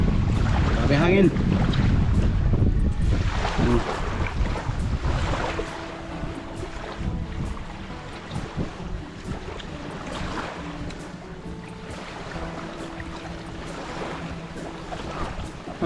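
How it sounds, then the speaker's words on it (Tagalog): Strong wind buffets a boat at sea off Burias Island, roaring against the microphone in heavy gusts that ease after a few seconds into a steadier rush, with voices talking intermittently and faint tonal hums underneath. "Grabe hangin."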